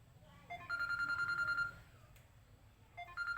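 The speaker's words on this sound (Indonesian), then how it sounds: "Abaikan saja suara telepon ya, ada suara telepon, abaikan saja." A telephone ringing in the background during a lesson, heard as a repeated electronic ringtone with two bursts, distant and faint, with a soft voice and room noise underneath.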